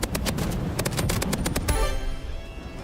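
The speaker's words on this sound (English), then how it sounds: "Uh-oh, I heard a gunshot." Rapid bursts of gunfire in a Roblox video game, a fast rhythmic volley of loud sharp shots that breaks off and leaves a ringing tail.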